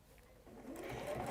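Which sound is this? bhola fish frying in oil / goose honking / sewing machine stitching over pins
sewing machine stitching over pins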